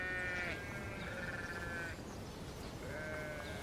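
A pet lamb named Aga bleats in two drawn-out, wavering calls separated by a short pause, fairly close against a soft outdoor background.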